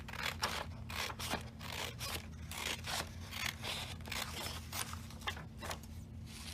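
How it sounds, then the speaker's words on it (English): Scissors snipping through paper along bold printed lines, a steady run of quick crisp cuts close by and fairly faint over a low background hum, with no talking. "I'm cutting along the dark bolded lines"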